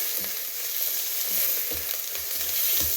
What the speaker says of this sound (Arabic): ونخليه يتقلى مليح مع البصل